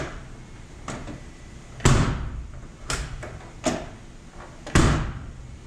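A Peterbilt 359 truck door with a loose, worn handle being opened and shut repeatedly, giving five sharp latching thumps and bangs spaced about a second apart at close range, with no talking.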